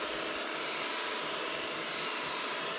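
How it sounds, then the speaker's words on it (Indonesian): An electric hand mixer runs at low speed through cake batter for a pandan sponge cake, a constant, close, even whirring hum with no breaks and no talk. "Nah, ini kita langsung aja mixer. Awal-awalnya kita pakai kecepatan rendah dulu ya"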